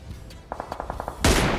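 A string of small, quick clicks precedes a single loud gunshot blast in PUBG Mobile, a sharp close crack that stays present as a noisy burst to the end.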